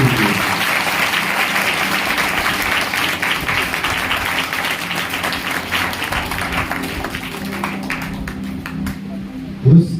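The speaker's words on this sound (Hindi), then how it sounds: "एक बार फिर से ताली बजाएंगे" Steady applause from a church congregation at a Hindi-language Christian worship service, dense clapping filling the whole stretch, with a voice speaking over it and a brief louder knock near the end.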